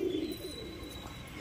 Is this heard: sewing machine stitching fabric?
no